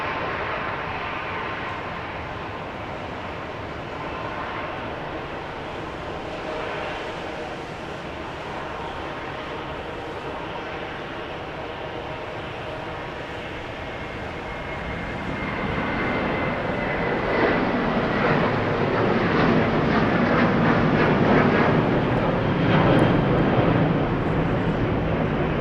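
A Southwest jet takes off from the runway at Dallas Love Field. A steady distant engine roar swells into a louder, broad thrust rumble partway through, with no talk.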